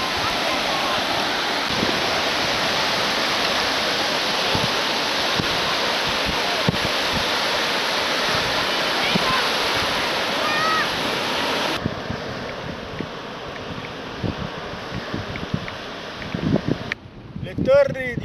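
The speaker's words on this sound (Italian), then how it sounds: "Il mare." Sea waves wash onto the beach at Rimini in a loud, steady broadband roar that fills most of the stretch, then settle into a softer wash while voices talk over it near the end.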